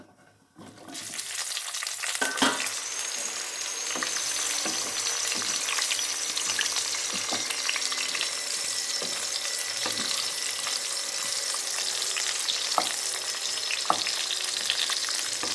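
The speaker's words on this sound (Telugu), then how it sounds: "ఇప్పుడైతే ఆయిల్ వేడెక్కాక మనము ఇవి వేసుకోవాలండి. వంకాయలు" Small home-grown eggplants, slit for stuffing, hitting hot oil in a pan: a sudden loud sizzle that settles into steady, close frying with scattered crackles and pops, and no talking.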